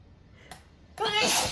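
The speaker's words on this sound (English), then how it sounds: "now before I was going to sneeze" A single sharp human sneeze, preceded by a faint intake of breath, loud and close in a quiet room.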